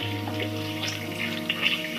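Water poured into a cooking pot while making traditional lhem lehlou, sweet meat with apricots and raisins, heard as a steady running, tap-like stream over a low hum, with no one talking.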